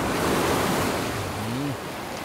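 Sea waves wash onto the shore in a continuous, windy surf rush in a dubbed South Indian film scene, with a brief low whistling tone gliding near the end.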